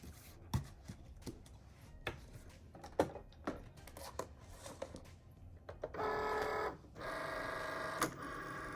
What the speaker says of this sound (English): I'm going to let my Cricut cut this out.